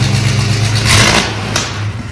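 A 1968 Ford Mustang Fastback engine revs hard through a loud aftermarket exhaust with a deep, rumbling growl, rising to a louder peak midway before settling back to a throaty idle.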